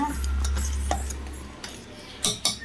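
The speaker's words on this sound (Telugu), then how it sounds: "దీన్ని బాగా గిరా గిరా గిరా తిప్పండి దీన్ని బాగా" Pancake batter stirred in a bowl with a utensil, a soft swirling scrape under a low hum, followed by a few sharp clinks against the bowl near the end.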